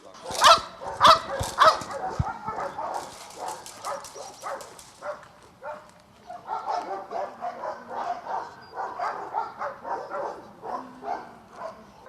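A police shepherd dog barks sharply several times up close during bite training, then a series of softer barks and yelps continue irregularly as people talk in the background.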